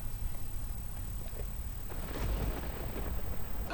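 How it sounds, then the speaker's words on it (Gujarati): Heavy, steady rain pours down over Mahuva in Bhavnagar, a dense continuous wash of noise that swells slightly louder partway through, with no voices. "મહુવા શહેર અને ગ્રામ્ય વિસ્તારોની અંદર અવિરત વરસાદ વરસી રહ્યો છે"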